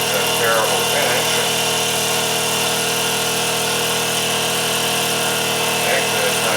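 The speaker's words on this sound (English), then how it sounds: "show a little bit of milling with the power feed" A milling machine on power feed cuts metal in conventional milling, a steady droning whine with constant tonal hum and a few faint chattering bursts, loud and unbroken.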